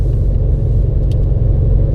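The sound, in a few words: car engine idling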